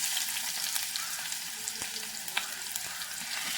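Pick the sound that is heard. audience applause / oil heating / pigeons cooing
oil heating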